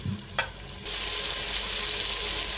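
Tomatoes, green chillies and ginger-garlic paste tip into a pan of frying onions for brinjal bharta: a brief clatter, then a loud, steady sizzle that swells and holds close by.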